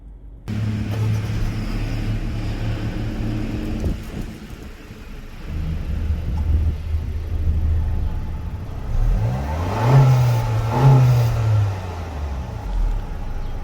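A 2022 Honda Civic Touring's 1.5-liter engine idles steadily nearby, then revs up twice in quick succession before settling back to idle.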